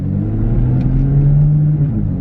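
BMW F80 M3 with a Bootmod3 Stage 2 tune accelerating, a deep, loud, rumbling engine note heard from inside the car, steady and rising slightly in pitch.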